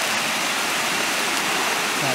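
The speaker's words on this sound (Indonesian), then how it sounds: "Kita temu sungai lagi." A jungle river in Bali rushing steadily nearby, a broad continuous wash of flowing water that fills the whole moment without pauses.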